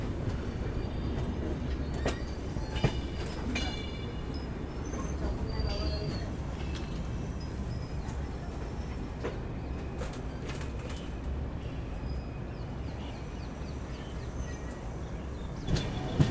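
The AP Express train runs along the rails from Nagpur toward Amla, a steady rolling rumble with faint clicks and clatter throughout, heard from on board with quiet background sounds and no clear voices.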